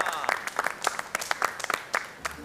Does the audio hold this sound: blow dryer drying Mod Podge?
no